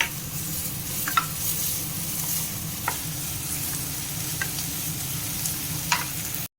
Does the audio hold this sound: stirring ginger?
yes